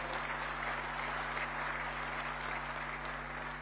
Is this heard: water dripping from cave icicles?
no